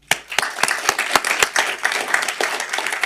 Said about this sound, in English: she needs a round of applause, too, as well